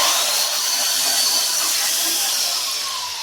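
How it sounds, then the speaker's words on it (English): Continuous loud, hissing whir of a power sander grinding against metal, steady throughout with no talking. "we're going to just make sure the surface is all pretty level with our sander"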